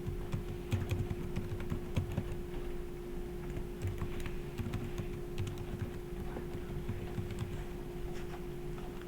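A computer keyboard typed on steadily as a username and password are entered for a remote virtual machine login, giving a continuous patter of close clicks over a low background hum.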